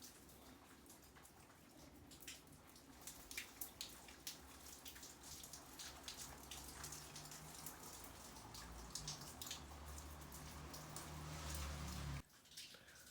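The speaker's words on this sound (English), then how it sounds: "I just want to come on so you can hear the rain" Steady nighttime rain falls outside, a dense continuous patter with scattered sharper drips, holding even and fairly loud before a sudden drop near the end.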